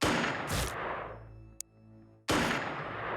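Gunfire in the alien-combat strategy game Xenonauts: loud blasting shots ring out, the first bursts decaying into a low echoing tail, then another heavy report kicks in, with no talk over them.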